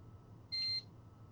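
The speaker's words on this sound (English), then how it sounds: "The beep quickly pulls me back before my thoughts travel any further" A single electronic timer beep sounds in a photo darkroom, one steady high-pitched tone lasting about a quarter second against quiet room hiss.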